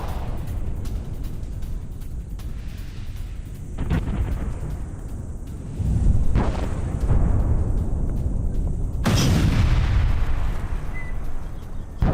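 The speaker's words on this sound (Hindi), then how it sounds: "इराक पर तुर्की की भीषण बमबारी" Explosions from Turkish bombing in northern Iraq: several heavy, distant booms with rolling rumble between them, over a constant background roar.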